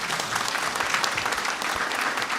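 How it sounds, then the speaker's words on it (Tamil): A church congregation claps together during Eucharistic adoration in a chapel in Paris, a dense, steady burst of applause that fills the whole stretch with no voices over it. "கைத்தட்டி கடவுளுக்கு நன்றி செலுத்து."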